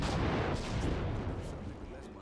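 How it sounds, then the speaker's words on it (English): Explosions from an airstrike gun in Just Cause 3 make a heavy, rumbling barrage of overlapping blasts that stays loud and dense, dying away only slightly over about two seconds. "I want to shoot that with my airstrike gun"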